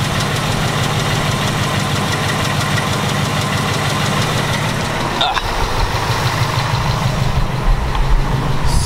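A Mustang's engine idles steadily with a fast, rhythmic ticking running through it, close and continuous, with a brief scraping noise midway.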